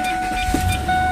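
A car engine hums steadily at idle right after a starter fix, close and continuous for a brief moment.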